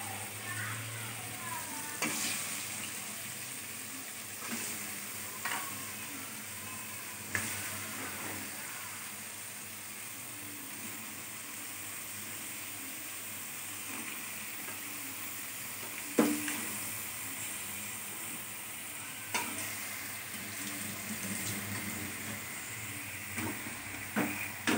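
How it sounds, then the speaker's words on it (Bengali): Chicken pieces sautéing in a fried spice paste with onion for a yogurt chicken curry, a constant low sizzle with intermittent clinks and scrapes of stirring, no voices. "মাংসটা কষাচ্ছে"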